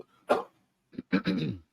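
A single sharp cough followed moments later by a short burst of rougher coughing, close and isolated against silence.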